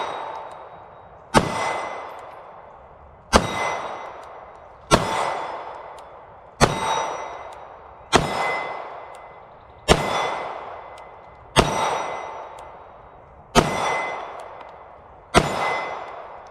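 A Sig Sauer P365 .380 pistol fires at the range, nine sharp shots evenly spaced about two seconds apart, each with a ringing, slowly fading tail and a metallic clang, with no talking.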